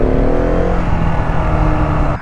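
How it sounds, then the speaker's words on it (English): A Husqvarna 701 Supermoto single-cylinder motorcycle engine revs loud and close, holding a steady high pitch before the sound drops away at the very end. "That is my Husky 707 Supermoto"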